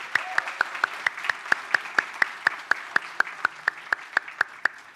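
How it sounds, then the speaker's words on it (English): Slow, evenly spaced claps at a web conference, about four per second, sharp and close, with a soft hubbub underneath. "I think we should have another round of applause for the organizers of Web Weekend Kathmandu"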